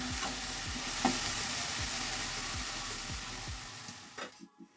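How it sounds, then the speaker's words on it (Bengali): Radish greens with a small radish and a whole garlic bulb frying in a pan, a steady loud sizzle with repeated stirring scrapes every second or so, stopping near the end. "সেই শাকগুলো ছোট্ট একটা মূলো দিয়ে একটা গোটা রসুন দিয়ে ভাজা করে নিচ্ছি।"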